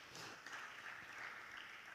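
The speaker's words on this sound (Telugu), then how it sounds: "చప్పట్లు కొడుతూ ప్రభువుకు స్తోత్రాలు చెల్లిద్దాం" A church congregation claps hands together in praise, a dense steady patter of many palms sustained throughout at moderate distance, with no clear voices over it.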